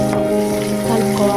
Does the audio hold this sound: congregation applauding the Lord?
no